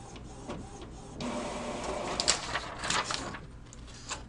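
A printer being set up for cloud printing runs off a page, giving a few seconds of moderate mechanical whirring and feed noise with soft clicks and rattles, heard alone with no talk.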